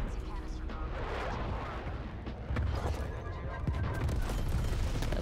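Grenade blasts and gunfire in a Call of Duty: Black Ops Cold War Search and Destroy match: dense, loud rumbling explosions and crackling shots throughout, with a player's voice faintly underneath.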